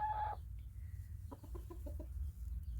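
A chicken gives a quick run of soft, low clucks, five or six in a row, against a quiet rumbling background.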